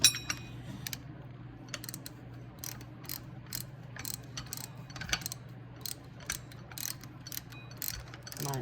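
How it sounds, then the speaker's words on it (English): A ratcheting wrench turns the bolts on the water pump of a Jeep 5.2 engine, giving quiet, rapid pawl clicks in short runs over a faint steady hum. "A wrench."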